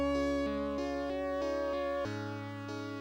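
Square-toned chiptune melody from a Sega Mega Drive game, with steady bright synth notes over a low bass line, fairly quiet.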